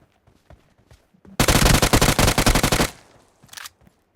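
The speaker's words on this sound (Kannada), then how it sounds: "ಮಿಷಿನ್ ಗನ್ ಇಟ್ಕೊಂಡೆ" Machine gun fire in the BGMI mobile game rattles in one loud, close sustained burst of rapid shots lasting about a second and a half, with quieter scattered clicks and footsteps before and after.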